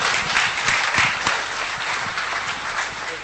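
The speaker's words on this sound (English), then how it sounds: "another hand of applause for Mohammad Rafi, the Indian Footballer of the Year." An awards ceremony audience applauds for the Indian Footballer of the Year, a dense, sustained burst of many clapping hands filling the room at even loudness.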